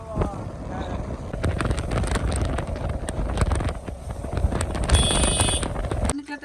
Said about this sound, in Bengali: বিশাল হাওয়া